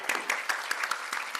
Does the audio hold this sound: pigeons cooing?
no